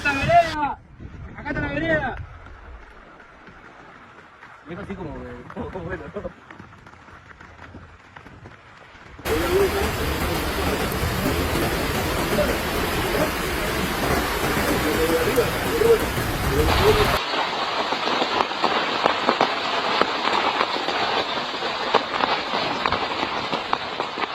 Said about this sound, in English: The sound of rain, at first soft and calm, slowly grew louder, then became a roar.